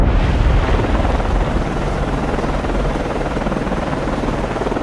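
Aircraft orbiting a waypoint in the submarine game Cold Waters produces a steady, loud rotor-like roar that fills the whole stretch without a break.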